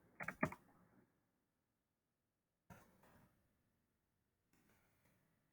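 Computer keyboard typing in three short separate bursts of clicky keystrokes, the first busiest, the later ones fainter, close and alone in a quiet room.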